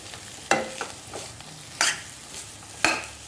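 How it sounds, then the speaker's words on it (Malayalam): Squeezed banana stem being sautéed in a pan for a pickle, a low continuous sizzle broken by three distinct scraping stirs of a spoon at roughly one-second intervals, close and fairly quiet. "ഉണ്ണിക്കാമ്പ് നന്നായിട്ട് ഇതൊന്ന് വഴറ്റി വെക്കുക."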